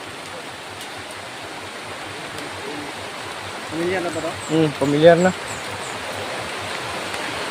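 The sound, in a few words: heavy rain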